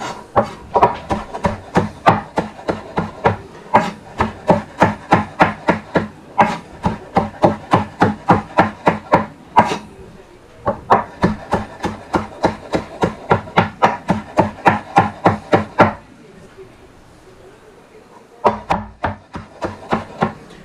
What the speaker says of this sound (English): I don't really want to grind the cilantro up too much in there.